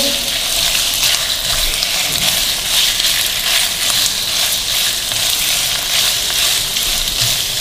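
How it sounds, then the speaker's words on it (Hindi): Chicken pieces cooking in a hot pan, a loud, steady close-up sizzle and hiss throughout with faint stirring underneath, no talk. "चिकन को अच्छी तरह हम इसके अंदर पकाएंगे।"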